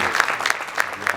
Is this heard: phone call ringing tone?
no